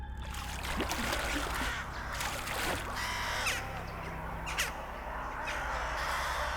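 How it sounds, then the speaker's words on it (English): Birds in a swampy bayou cry out with harsh, crow-like caws, several scattered calls rising over a constant low drone of water and ambience, fairly distant and haunting, with no voices. "birds cried out with haunting calls"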